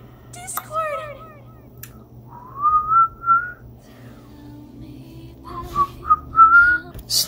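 A person whistles two sustained, gently rising melodic phrases, each lasting about a second, with short pauses and some quieter background sound between them.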